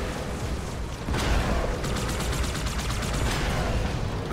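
Turret gunfire in Halo 2 Anniversary rattles as a steady stream of rapid shots inside a thick, constant wash of battle noise and rumble.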